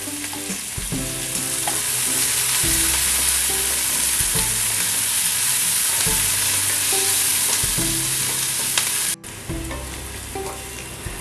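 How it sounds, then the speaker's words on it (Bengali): Chopped onions fry in hot oil for an egg, poppy-seed and coconut dish, a loud continuous sizzle close by with repeated scraping and clinking of a spatula stirring the pan. "তেলটা গরম হয়ে গেলে আমি পেঁয়াজ কুচোগুলো দিয়ে দিচ্ছি এর মধ্যে"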